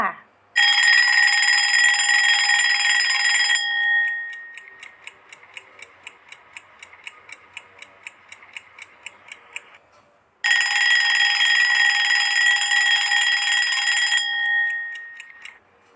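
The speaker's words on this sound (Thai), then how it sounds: "เสียงนาฬิกาปลุกนั่นเองค่ะ" A loud, shrill alarm clock bell rings for a few seconds, then steady ticking follows, and the ringing returns near the end.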